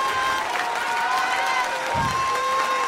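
A congregation at a French-language worship service applauding and cheering, a continuous crowd roar with clapping and sustained vocal tones, fairly loud and close.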